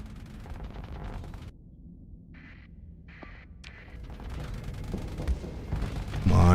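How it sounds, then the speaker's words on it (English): Torpedo explosions boom through a Starsector space battle, a rumbling, crackling barrage with short sharp bursts that build to a heavy blast at the end. "Might hit him with some torpedoes."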